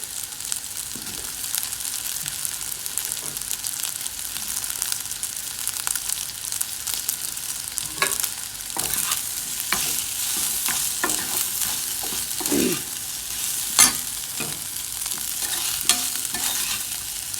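Cut pieces of banana leaf kozhukatta sauté in a frying pan with a steady close sizzle, broken by scraping and clacking as they are stirred, with no talk.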